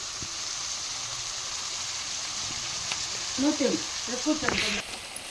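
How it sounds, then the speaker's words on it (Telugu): Onions and curry leaves frying in a pan, a soft continuous sizzle close by, with a brief stirring clatter near the end. "మంచి ఆనియన్స్ అయితే మంచి కలర్లోకి వచ్చేంత వరకు ఫ్రై చేసుకున్నాం."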